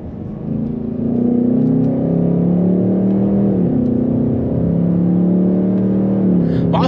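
Cabin engine sound of a 2024 Ford Mustang GT 5.0L V8 with automatic gearbox accelerating on the road, a steady close drone that rises in pitch, drops at quick gear changes, then settles toward cruise, with a voice speaking briefly over it.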